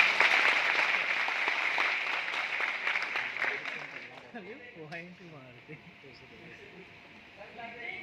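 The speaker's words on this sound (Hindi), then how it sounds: "ताली बजाओ उसके लिए" A seminar audience in Indore claps together, dense applause loud at first and slowly fading, after which a voice speaks over the last scattered claps.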